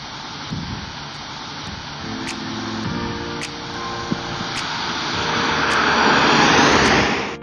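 A Pontiac Solstice accelerating hard in winter conditions as it tries to spin its tires, a broad roaring engine and rushing noise that swells louder toward the end, heard close with no talk.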